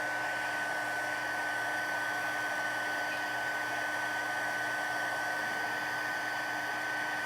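A heat tool blows hot air to melt material for a handmade birthday card, producing a continuous, even whooshing whine at moderate level, steady from start to finish with no speech.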